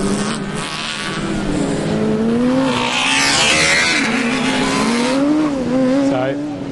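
Wolfenbüttel's Formula Student car number 33 lapping a circuit during an endurance event, its engine loud and near, the pitch climbing and falling repeatedly as it revs through corners and straights.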